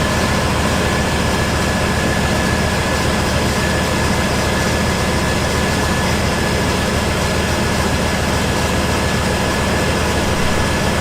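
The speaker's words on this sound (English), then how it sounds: "we're going to turn on the vehicle, and so it warms up" A 1988–98 Chevy C/K1500 pickup engine idles while warming up, a steady loud low rumble with constant broadband noise and no voices, unchanging for the whole stretch.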